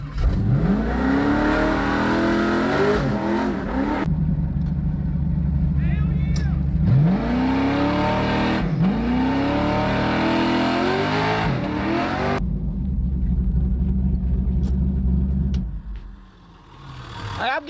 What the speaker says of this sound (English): I'm giving out free burnouts.